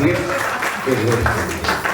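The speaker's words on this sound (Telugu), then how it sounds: "ఒకసారి క్లాప్స్ ఇవ్వండి" An audience claps and applauds at a comedy skit event during a success meet, a steady wash of clapping running the whole way under a talking voice.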